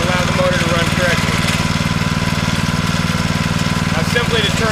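A Pacer pump's gasoline engine runs steadily with the choke off, a loud even mid-pitched drone with a fast regular chug and no pauses or changes in speed.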